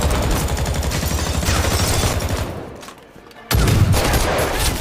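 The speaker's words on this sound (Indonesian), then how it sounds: "terus menggempur dengan tembakan tanpa jeda rumah warga rasa arena perang" Continuous rapid gunfire from a film shootout on a residential house, dense bursts of shots that briefly drop away before a loud volley resumes.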